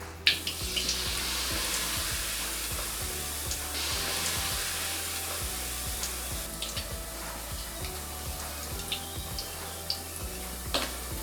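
Organic mushroom tempura frying in hot oil, a continuous close hiss and crackle with scattered pops, steady throughout and with no talk.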